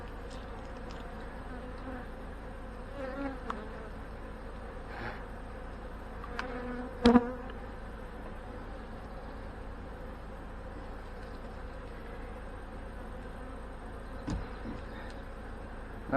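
Honey bees drone steadily inside an opened hive, a faint, continuous buzzing hum with a few brief clicks and knocks from the frames.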